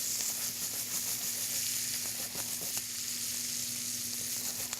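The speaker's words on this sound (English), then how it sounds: "we're just going to let those onions soften up" Onions and pancetta frying in a pan, a steady soft sizzle with faint stirring crackles, continuous and fairly quiet with no talking.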